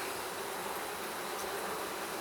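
Honeybees buzz steadily during an open hive inspection as the colony prepares for winter, a close, unbroken drone with no voices.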